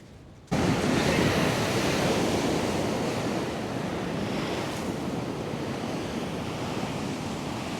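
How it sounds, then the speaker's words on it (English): Ocean waves roll in at Ocean Reef Park beach on Singer Island, a sudden, loud, continuous roar of surf mixed with wind buffeting the microphone, and no voices. "look at the waves come in"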